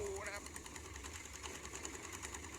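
A loud, heavily tuned Thai racing pickup engine with a turbo revs hard and steadily, its dense mechanical drone filling the scene from close by.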